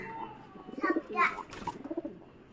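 Pigeons cooing close by, a couple of soft throaty rolling coos mixed with a voice talking at the same time.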